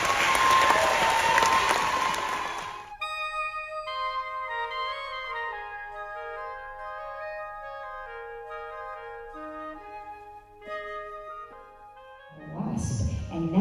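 An orchestra concert audience claps in a dense burst, then falls silent while the orchestra tunes in long sustained notes, and clapping swells again at the end.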